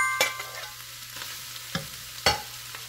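Chinese celery being stir-fried in a pan for a simple snack dish, giving a few sharp scraping stir strokes over a faint steady sizzle with a low hum underneath, fairly quiet and with no talking.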